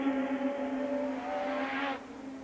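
Formula One car engine at the Belgian Grand Prix at Spa-Francorchamps, a McLaren among them, giving a steady high-pitched whine that rises slightly before cutting off near the end, heard from a distance with no talk.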